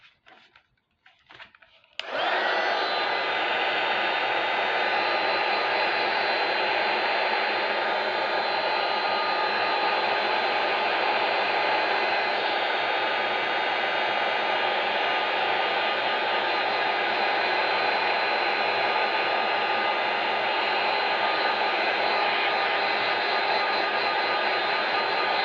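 A hair dryer switches on and blows continuously at full strength, a loud steady roar close by, drying metal pieces coated in Swellegant patina, with no talking over it.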